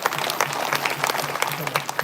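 Audience at a live kirtan applauding steadily, a dense wash of clapping that holds at an even level for about two seconds, with a sustained low hum running beneath.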